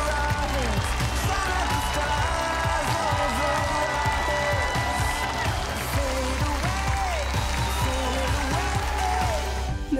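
A studio audience on a televised dance show applauds steadily, a dense wash of clapping and crowd noise mixed with music and a voice throughout.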